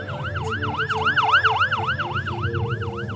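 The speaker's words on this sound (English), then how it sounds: "an ambulance screams past her window" Ambulance siren wailing in a steady rising and falling pattern as it passes close by a car window, loud and continuous over a low rumble of traffic.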